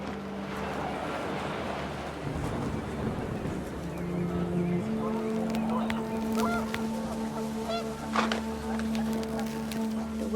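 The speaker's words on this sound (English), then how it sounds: "The wind picked up and panicked geese appeared and quickly went." Panicked geese honking in gusting wind in the video game What Remains of Edith Finch, several close honks layered over a windy, rumbling background, growing busier toward the end.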